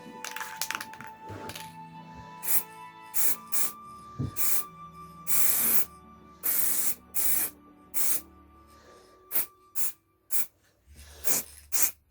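Spray paint hisses in short bursts as a first coat goes onto a pumpkin build, roughly a dozen close, loud blasts of varying length separated by brief pauses.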